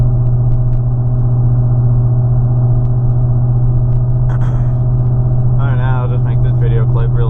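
A 2013 Ford F-150 pickup fitted with a Roush exhaust kit idles with a deep, steady, loud rumble, close to the listener, while brief voice-like sounds rise over it near the end.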